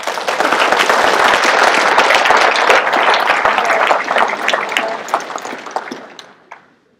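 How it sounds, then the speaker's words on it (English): Crowd at the World Ag Expo in California applauding, close and loud with many hands clapping hard, tapering off and fading out over the last two seconds. "You could applaud her."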